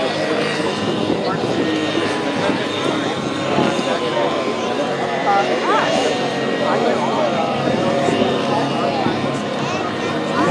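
Radio-controlled helicopters flying stunt routines, including inverted hovering, with a steady whining rotor and engine buzz that rises and falls throughout, mixed with crowd voices and background talk.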